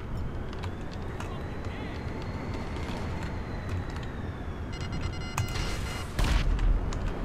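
Missile strike in a video game heard as a steady loud rumbling roar of engine and explosion noise, with scattered distant booms and a heavier blast surge near the end.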